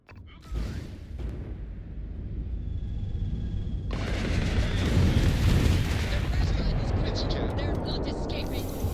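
Loud, dense booming and rumbling combat noise from the video game Starfield, with a sharp blast early on and sustained heavy gunfire and explosions building from the middle, mixed with game voices.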